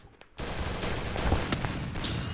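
Gunfire in the video game Counter-Strike: a rapid, dense burst of automatic shots erupts after a short quiet start and keeps going loud and close to the end, with no talk.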